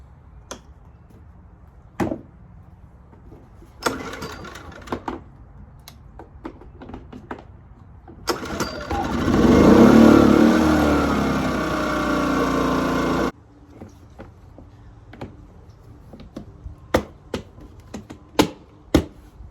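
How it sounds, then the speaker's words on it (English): A Pulsar 2300W portable generator, freshly filled with new oil, is started with a few sharp clicks and knocks before its engine catches, runs loudly for several seconds, then cuts off; scattered clicks and taps follow. "What I like to do is fire the generator up and let it run for a few minutes with fresh oil."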